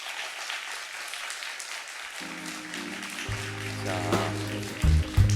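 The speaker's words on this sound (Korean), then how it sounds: "큰 박수로 맞이해 주세요" An audience at a panel discussion claps steadily throughout, while music with low tones fades in partway through.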